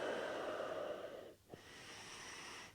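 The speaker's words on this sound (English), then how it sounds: "Take a couple of deep breaths there" During a morning yoga pose, a slow, deep breath drifts out softly, close and quiet, then breaks briefly before another gentle, airy inhale follows in near silence.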